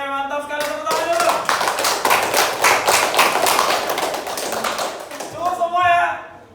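Classroom applause after a lesson: a burst of many hands clapping in quick, dense, uneven rhythm for several seconds, close and fairly loud, with a teacher's voice talking at the start and end.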